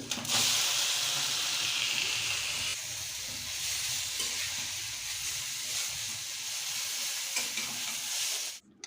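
Noodles cooking in a hot pan give a steady, loud sizzle and hiss that runs almost unbroken, with faint stirring underneath, then cut off abruptly at the end.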